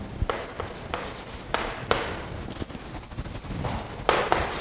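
Hand writing out a maths problem on paper, a close sequence of scratchy pen strokes in irregular bursts, with soft rubbing and a faint background hiss between strokes.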